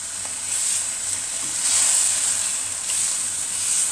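Vegetables sizzle steadily in a hot pan, a continuous bright hiss that swells and eases slightly, close and fairly loud, with no voices.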